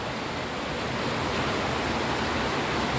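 Heavy rain pouring during Typhoon Enteng, a constant broadband rushing hiss, loud and even throughout, with no one talking.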